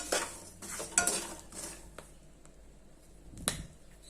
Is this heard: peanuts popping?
yes